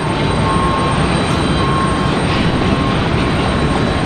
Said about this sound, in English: You can see that Delta E175 getting pulled out to the start line there